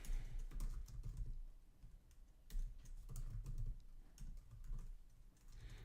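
Someone types code on a computer keyboard in close, quiet bursts of rapid key clicks with irregular pauses, and no talking over it.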